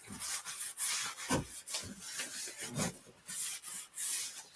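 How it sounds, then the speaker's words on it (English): A detailed collectible item being wiped down, producing soft rhythmic rubbing strokes with brief scuffs, close and quiet with no talking. "let me wipe this one down next"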